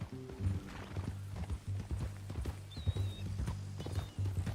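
Horse hooves clip-clop steadily in Red Dead Redemption 2, a close, rhythmic walking gait with occasional snorts and a faint whinny over a low music bed.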